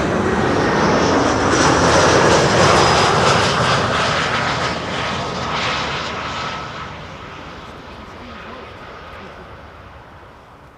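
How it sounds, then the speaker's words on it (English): An Airbus A320 arriving at Schiphol on the Kaagbaan runway 06, a loud broad jet roar that slowly fades as the aircraft passes and recedes. "A320 arrived from Barcelona."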